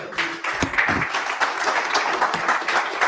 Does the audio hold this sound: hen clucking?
no